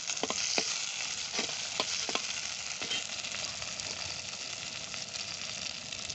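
Tomatoes and green chilies sautéing in a hot pan for an egg curry, a steady close sizzle of frying with the occasional scrape and stir of a spatula and no talking.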